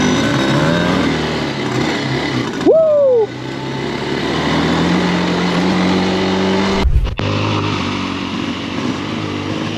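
An X1000 enduro motorcycle with a waterlogged engine revs and idles loudly and close by, off-road in the bush, holding a steady rough drone with a short dip and a brief cut near the end.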